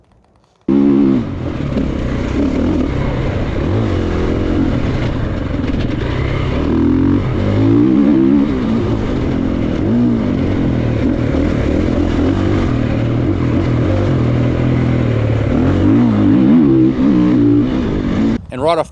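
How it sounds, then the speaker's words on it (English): Triumph TF450E 450cc enduro motorcycle engine running continuously on a track, a loud, rising and falling buzz with throttle changes throughout, close to the microphone. "we're cutting laps on Triumph's TF450E"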